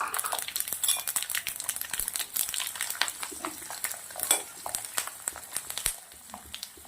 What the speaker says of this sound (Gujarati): તેલ ગરમ છે રાઈ અને જીરું નાખું છું થોડી હિંગ નાખવાનું છે આપણા લસણ નાખી દેવાના છે